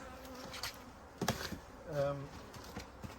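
Soft honey bee buzzing hums steadily in the background during a hive inspection while a person talks over it, with occasional faint knocks.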